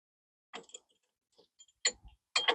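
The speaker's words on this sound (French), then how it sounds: "Donc j'utilise mon repousse piston." A brake piston pusher tool forces back the caliper piston while front brakes are changed on a Citroën C4 Picasso. It makes a few faint, scattered clicks and ticks with quiet gaps, ending in two slightly firmer clacks.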